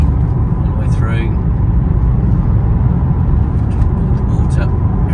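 A 2014 Vauxhall Astra GTC 2.0 CDTI BiTurbo diesel on a bumpy country road, heard from inside as a loud, steady low engine and road rumble with faint knocks from the uneven surface.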